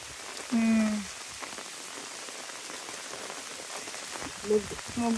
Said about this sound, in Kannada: ಓ ಮಳೆ ಬಂತು, ಮಳೆ ಬಂತು